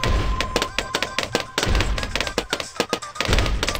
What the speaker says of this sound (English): I love how large the explosion is compared to how it looks.